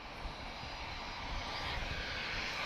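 A Lufthansa jet airliner in older livery, first flown in 1994, makes a steady, broad engine roar at Lisbon Airport that holds continuous and fairly distant throughout.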